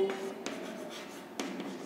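A pen scratches across paper while a journal entry for partnership accounts is written by hand, soft close strokes with two sharper taps, under faint background hum.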